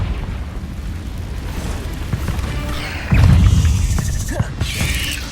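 A Confringo blasting spell explodes in the video game Hogwarts Legacy with a deep booming burst, followed by rumbling debris and smaller cracks over continuous game background noise.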